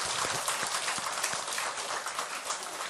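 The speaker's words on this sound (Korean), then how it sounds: "오늘 박수 많이 받네요." A temple audience at a Korean Buddhist monk's talk applauds, a dense, even wash of many hands clapping throughout, moderately loud, with no speech over it.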